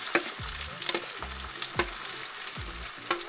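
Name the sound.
boiled potatoes frying in oil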